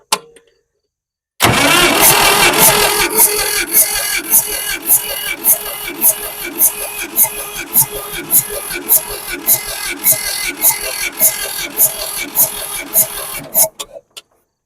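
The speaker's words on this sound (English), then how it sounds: "I'm not going to be hitting that starter as hard as I was" A 1962 Massey-Ferguson tractor engine cranks loudly with a steady rhythmic chug of the starter for about twelve seconds, then cuts off abruptly, heard up close with no talking.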